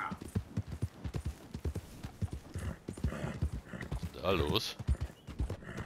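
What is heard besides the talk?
horses in video game Red Dead Redemption 2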